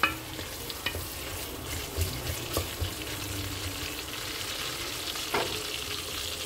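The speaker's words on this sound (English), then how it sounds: "I just added my onions, so I will stir for some seconds" Onions fry in a pot for a Nigerian turkey stew, a soft steady sizzle with occasional spoon scrapes and clinks as they are stirred, fairly quiet throughout.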